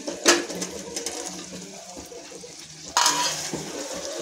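Moringa drumstick pieces frying in oil with cooked-down tomatoes: a close, low sizzle with stirring and scraping against the pan, and two sharper, louder bursts of hissing, one near the start and one about three seconds later.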